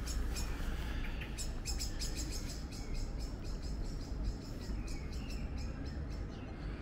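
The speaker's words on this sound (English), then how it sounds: "There's a blackbird tweeting away over there." A blackbird sings outdoors in the evening, with rapid repeated chirping phrases carrying steadily from a moderate distance over a low ambient rumble.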